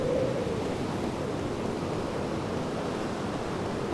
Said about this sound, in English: Look at the waves rocking.